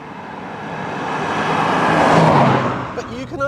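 A smooth-running car engine hums steadily while driving, swelling gently in the middle with road noise, before a voice speaks briefly at the end.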